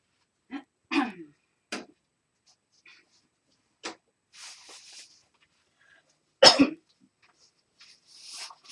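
A few short, throaty bursts of throat clearing and coughing, close to the mic, separated by quiet pauses and faint rustling.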